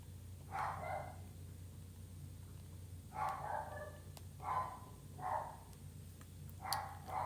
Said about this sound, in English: Hopefully he stops barking.